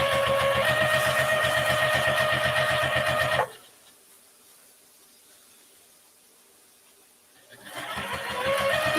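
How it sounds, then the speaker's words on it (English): A sewing machine stitches a fabric shopping bag, humming in rapid rhythmic bursts. It stops abruptly for a few seconds of near quiet, then starts running again. "I'm trying hard to go over my stitching, but it's crooked."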